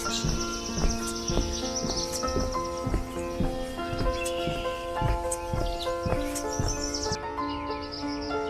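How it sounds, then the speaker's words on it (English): Marsh birds calling on a rainy day from an elevated boardwalk in Cuyahoga Valley National Park, faint repeated chirps and tweets over soft steady rain with occasional light taps, fairly distant and quiet. "it's quiet with only the sound of the marsh birds"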